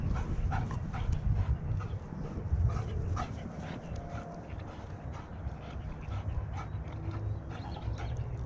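A white German Shepherd gives a few soft barks and whimpers near a river, fairly quiet and close, amid outdoor background noise.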